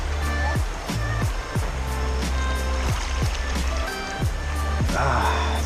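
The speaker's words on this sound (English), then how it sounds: "On a random river in Thailand, on a bamboo raft." River water laps and swirls around a bamboo raft on a river in Khao Lak, Thailand, a continuous nearby wash with rhythmic splashes and knocks as the raft moves.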